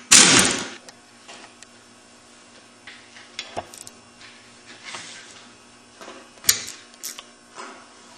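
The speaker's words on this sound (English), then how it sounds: "12mm socket, take off the shift star" A 12mm socket working loose a motorcycle shift star during gearbox teardown: scattered metallic clicks, ratchet ticks and clunks of parts, fairly close, with a louder clatter at the start and no talk.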